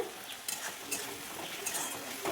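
Spices and sugar sautéing in oil for a rohu fish kofta curry, with a utensil stirring and scraping the pan in irregular strokes over a soft sizzle, heard up close but quietly.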